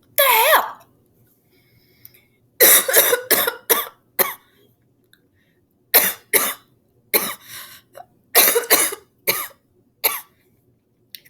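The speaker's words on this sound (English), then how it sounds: "Crap's so bad it's making me cough" A person coughs in repeated harsh bursts, some in quick clusters of two or three, loud and close with quiet gaps between.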